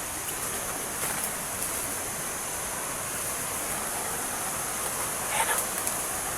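Creek water flows in a steady, soft rushing wash that continues without a break, fairly quiet and alone, with no talking.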